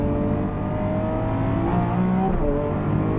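A Lamborghini Aventador SV in Corsa mode blips its engine on a downshift from fourth toward second, a loud, close in-cabin roar with rising and falling revs.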